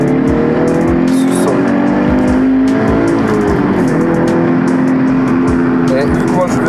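Toyota GT86 engine revving hard and dropping through a downshift to third gear, the pitch sweeping up and down with the engine note steady and loud, under excited talk from people inside the car.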